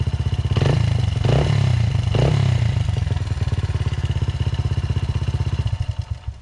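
A Honda CRF 80F dirt bike engine idling close by, a steady low pulsing putter with two brief throttle blips early on, then settling into an even, slightly uneven idle.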